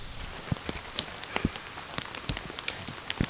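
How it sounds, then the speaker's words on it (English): Rain falling steadily on a golf course, scattered drops pattering and ticking on wet surfaces with a constant soft hiss beneath, irregular close taps standing out now and then, no voices. "Yeah, it's still raining out there."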